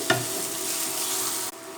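Potato pieces with salt are lightly fried in a pan, giving a close, steady sizzle with a soft stirring scrape near the start and a brief break near the end.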